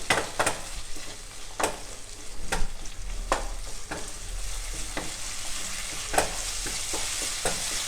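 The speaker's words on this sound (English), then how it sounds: "Stir it well." King chilies, ginger and garlic frying in a pan alongside pork ribs, giving a constant loud sizzle punctuated by repeated sharp spatula scrapes and clacks at an uneven rhythm.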